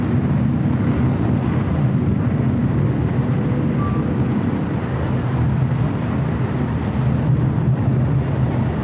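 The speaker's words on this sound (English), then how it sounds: "This is United Airlines 2622 taking off to Chicago O'Hare on a 757-300" A United Airlines Boeing 757-300 jet taking off from the runway, a loud, continuous low engine roar with wind rumble, steady and dense throughout with no distinct voices.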